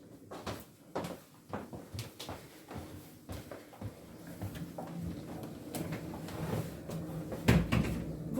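A drawer on a private cruise yacht in Croatia opens and closes with a run of wooden knocks, slides and clunks, close by and moderately loud, with a firmer thump near the end.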